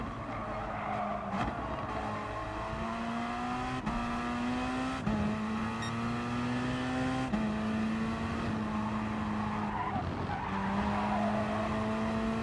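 Gr.3 race cars, a Mercedes and a Porsche, battle wheel to wheel at Blue Moon Infield A in GT Sport, engines droning and shifting up through repeated gear changes while tires skid and squeal, loud and continuous throughout.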